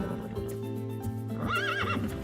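A horse, one of eight flown from Munich zoo to Almaty for Altyn-Emel national park, lets out a loud, wavering neigh near the end, while hooves clop steadily underneath.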